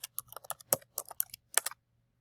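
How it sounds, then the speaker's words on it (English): Quick bursts of clicky keystrokes on a computer keyboard, close and quiet in a silent room, typed in short irregular runs that stop near the end. "So I'm going to type here facts about Colombia."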